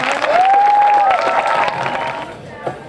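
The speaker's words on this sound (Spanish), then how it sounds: "queríamos dar inicio a nuestro programa con un fuerte aplauso para todo el público." Audience applause and cheering open a cocktail-making show at a polytechnic school, a dense crowd of claps with a sustained whistle early on, fading slightly toward the end with voices mixed in.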